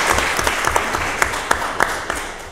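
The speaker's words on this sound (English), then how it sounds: "It feels a little strange to clap after such a sobering story" A conference audience claps steadily after a speech on managing shrinking resource revenues, with a few sharper individual claps standing out from the even applause.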